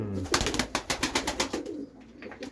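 Pigeons coo close by in a run of soft, pulsing throaty calls, with busy background noise.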